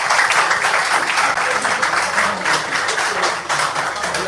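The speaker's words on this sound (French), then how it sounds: "Est-ce qu'on peut l'applaudir, s'il vous plaît?" An audience at a school conference in a collège claps loudly for a speaker being introduced, a dense, steady burst of many hands close by with no talking over it.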